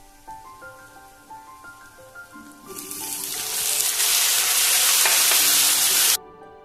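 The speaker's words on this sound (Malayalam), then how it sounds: "ഇനി ഇതിലേക്ക് നമുക്ക് 2 തക്കാളി കട്ട് ചെയ്തത് ചേർത്ത് കൊടുക്കാം." Chopped tomatoes hit browned onions in a hot pan for a curry, setting off a loud, steady, close sizzle that swells and holds until it stops abruptly, with soft background music before and under it.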